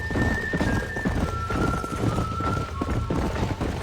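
Horses trot along in a Western-themed video game, their hooves clip-clopping in a steady rhythm close by, alongside a faint sustained tone and ambient game noise, with no voices.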